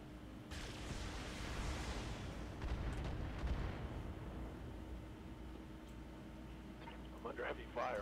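Mech weapons fire in the BattleTech video game and blow apart a turret, a rumbling burst of explosive blasts that swells and then fades, with a brief mechanical clatter near the end.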